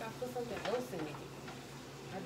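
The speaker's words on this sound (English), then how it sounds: "Now get the wooden spoon and stir it up." Wooden spoon stirring taco filling with onion and seasonings in a pot, a brief soft scraping and gentle sizzle, close and fairly quiet, with a faint voice in the background.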